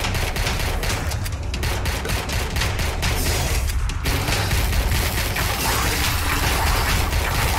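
A Tesla staff weapon fires continuously in the video game Tesla vs Lovecraft, a loud dense crackling barrage with rapid repeated pulses that runs without pause from start to end.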